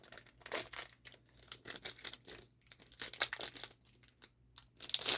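A Weiss Schwarz Dandadan booster pack is torn open with close, irregular bursts of crinkling and ripping foil wrapper, alone with no voices.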